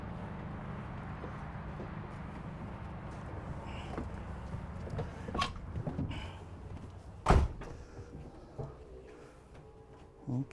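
A Newmar Ventana LE 3436 motorhome door is shut with a single sharp slam partway through, set against a low steady background hum, with a few lighter knocks and clicks around it.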